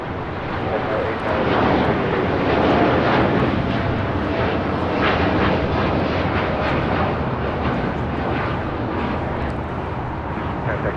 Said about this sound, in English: Now taking off is Japan Airlines Flight 69, taking off to Osaka on the 787-9 Dreamliner